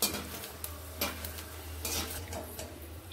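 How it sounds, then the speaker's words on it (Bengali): Peanuts and two dried red chillies frying in hot white oil, a quiet continuous sizzle with repeated scraping and clinking of a spoon stirring in the pan, irregular and close by, with no talking. "আমি সাদা তেল গরম করে এখানে কিছু বাদাম ভেজে নেব। আর লাগবে আমার দুটো শুকনো লঙ্কা, একসঙ্গে দুটোকে ভেজে নেব।"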